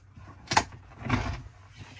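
The escape door of a 2020 Tiffin Phaeton 40QKH motor coach opening, with a sharp latch click followed by a longer sliding, rushing movement, close and moderately loud, no speech.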